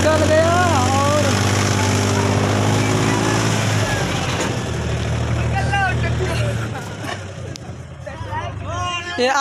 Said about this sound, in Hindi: ये ट्रैक्टर निकल गया